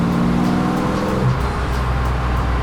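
A fake Lamborghini driven gently at about a tenth of its engine's power gives a steady, close engine drone with a slight rise in revs midway, alone without talk.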